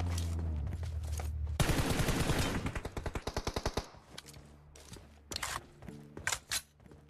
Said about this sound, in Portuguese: o Lagoa escutou o tiro lá e não bateu